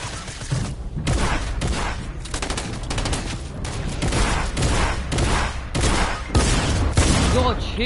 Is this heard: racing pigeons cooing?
no